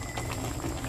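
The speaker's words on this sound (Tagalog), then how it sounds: "Ayan, kung napapansin nyo, kumukulo na siya, no?" Coconut-milk soup broth for catfish bubbles at a boil in a pot, a steady dense hiss and patter of bubbling, close and continuous with no talk.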